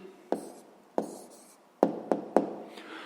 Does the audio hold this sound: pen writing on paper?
yes